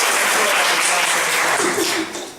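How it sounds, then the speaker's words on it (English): Audience applause and cheering at a student freshers' week comedy night, voting for a contestant named Jake; loud, dense clapping sustained throughout, fading slightly at the end. "give him a round of applause."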